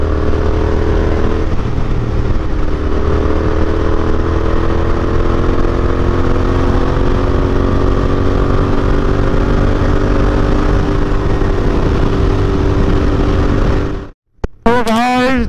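Motorcycle on a Sunday highway ride at speed, a steady loud engine drone mixed with wind rush that runs continuously and cuts out abruptly near the end.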